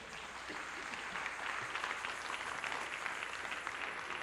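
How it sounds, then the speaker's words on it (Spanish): Church congregation claps steadily during a sermon, a dense, even wash of applause from many hands that holds at one level throughout, with no talking over it. "Dele palmas al Señor"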